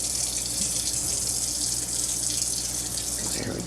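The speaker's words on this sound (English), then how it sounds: "Run a little water under it as I'm taking the seeds out." Kitchen tap water runs steadily over a jalapeno pepper as its seeds are removed, a close, continuous splashing hiss with no voices over it.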